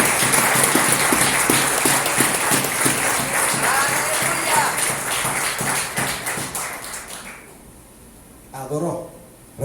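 Church congregation claps in rhythm during a Spanish-language worship service, a loud steady pattering of many hands that thins out and fades near the end, followed by a brief voice.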